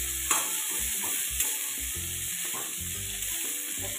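Chopped dill and fenugreek greens frying in a pan with a steady bright sizzle, broken by a few sharp stirring knocks against the pan; no talk.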